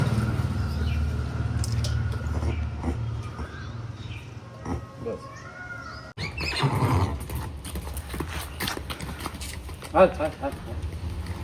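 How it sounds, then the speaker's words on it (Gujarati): An injured, spirited horse on a farm neighs and whinnies while its hooves clop. People talk close by and the animal sounds break through between their voices. "આ ઓલો મહારાણા પ્રતાપના જે ઘોડા હતા ને એવો ઘોડો છે."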